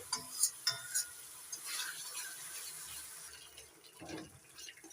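Spices being sautéed with a little water in a pan for catla fish chorchori, a few sharp utensil taps at the start followed by soft stirring, wet sizzling and gentle splashy movement.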